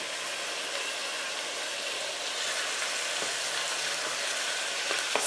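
Diced leg mutton frying in a pot, a steady loud sizzle throughout with faint scraping from stirring near the end.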